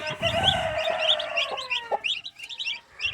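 Newly hatched turkey chicks peep in a close, loud cluster of high, rapid chirps, several short calls overlapping in quick succession over about three seconds.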